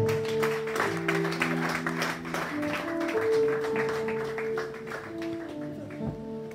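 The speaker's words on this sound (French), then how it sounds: "Sous vos acclamations, s'il vous plaît" Sustained applause from a church congregation, with steady clapping throughout while sustained musical tones from an organ or keyboard play underneath.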